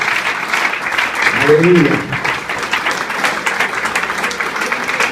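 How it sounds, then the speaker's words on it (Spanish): A church congregation claps in a quick, dense burst during a Spanish-language sermon, the applause fairly loud and close, with a voice calling out briefly partway through. "Un fuerte aplauso para el Señor Jesucristo."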